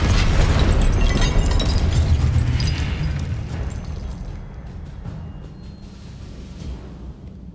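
Spell blasts and explosive impacts from Hogwarts Legacy gameplay, a dense loud barrage of booms and bursts that gradually thins and fades toward the end.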